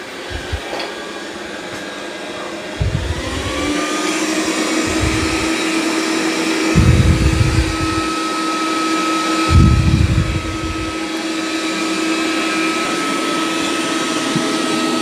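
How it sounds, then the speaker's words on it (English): Dreame Ultra robot vacuum, L40 or X40 model, runs over carpet with its side brush off, giving a steady loud motor whine and airflow roar that swells in several bursts as it moves across the pile. "It's going to go vacuum that carpet, come back, reattach the mop pads, and clean them."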